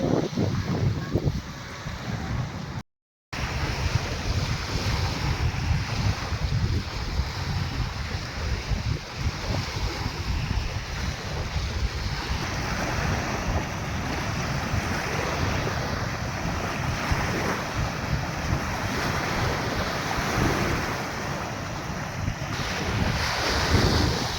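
Sea waves and wind on a beach make a loud, continuous roar with heavy wind buffeting the microphone throughout, briefly cut by a short dropout near the start.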